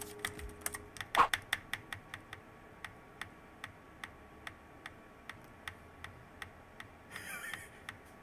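Lubed Blue-switch mechanical keyboard keys are pressed one at a time, giving crisp, evenly spaced clicks close up. A brief cluster of quick presses comes near the start and a rustle near the end, over a quiet background.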